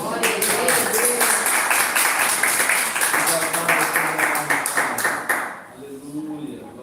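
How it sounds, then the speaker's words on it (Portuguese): A church congregation in Curitiba applauds after a prayer, loud continuous clapping that fades toward the end, with a voice speaking over it. "Pode dar uma salva de palmas"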